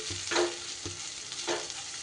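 Pointed gourd (potol) softens and fries in a pan, giving a low steady sizzle with a few brief stirring scrapes, close and fairly quiet.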